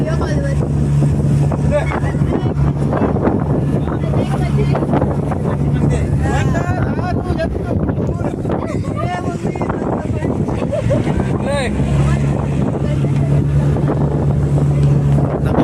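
Motorboat pounding through big sea waves, with a steady roar of engine, water and heavy wind buffeting the microphone throughout, loud and continuous, while people talk over it.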